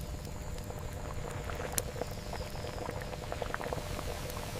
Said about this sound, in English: Skilled hands purify the boiling jaggery juice.